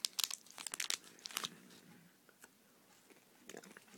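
Crunchy M&M's chocolate candies being bitten and chewed close up, with sharp crackling crunches in quick bursts that fade to softer chewing, then a few more crunches, with faint whispery voice sounds.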